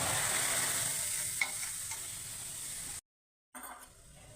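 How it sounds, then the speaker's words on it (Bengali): Beetroot and chili paste hisses and sizzles in a hot dry wok as it is stirred, a steady close frying crackle that cuts out briefly before resuming more faintly. "কড়াইটা গরম করে শুকনো কড়াইতে ঢেলে দিলাম"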